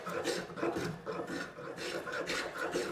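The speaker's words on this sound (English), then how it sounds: "it's a good chance to enjoy working with your spokeshave" Rhythmic rasping strokes of a spokeshave shaping an olive wood cutting board, about five back-and-forth passes, close and steady.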